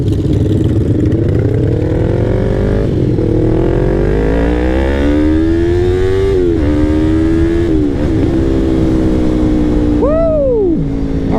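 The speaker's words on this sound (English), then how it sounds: "Ooh, sounds nice too. I actually like this exhaust. This is a Ransoto exhaust." Yamaha MT-03 motorcycle with a Ransoto aftermarket exhaust revving close up, loud and steady, its pitch climbing and dipping through repeated throttle blips.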